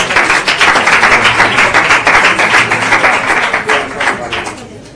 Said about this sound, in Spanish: puedo volver un aplauso para todos.